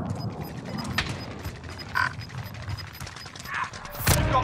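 Gunfire in the video game Call of Duty Warzone (Cold War), with scattered shots and heavier bursts over a constant busy in-game din, the loudest blast near the end.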